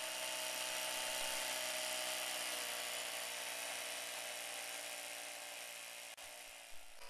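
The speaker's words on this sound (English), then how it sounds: "pumping up the tyre here just to show you the performance of this little mini compressor" A small 12-volt mini compressor plugged into an accessory socket runs steadily, inflating a Can-Am Spyder tyre with a loud, continuous high-pitched whine and buzz that barely changes for the whole stretch, briefly dipping near the end.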